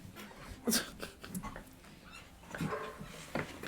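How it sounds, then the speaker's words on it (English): Jasper the dog lets out a few short, soft barks and whimpers indoors, with a clear burst near the start and two more toward the end, separated by quiet breathy pauses. "Oh my god, Jasper, why the bark? Why the barking?"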